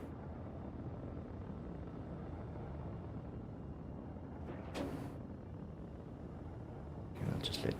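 A spaceship in Star Citizen cruises in steady flight near a station, giving a continuous low engine rumble throughout, with two brief bright bursts midway and at the end.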